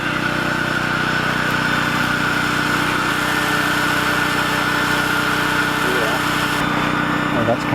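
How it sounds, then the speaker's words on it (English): A chainsaw runs at a steady, constant drone while cutting open a large log to extract a bee colony outdoors. The engine stays loud and unbroken, with faint voices here and there. "It's nice to have a real chainsaw, isn't it?"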